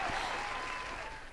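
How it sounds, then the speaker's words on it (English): A short burst of applause from an audience, steady dense clapping throughout that tapers slightly at the end, fairly faint and heard alone. "another round of applause for Ashes in the Hourglass"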